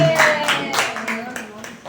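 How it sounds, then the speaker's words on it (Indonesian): A class gives a short round of applause for group 1, with a few scattered hand claps mixed in with voices speaking over them. "Kasih tepuk tangan buat kelompok 1"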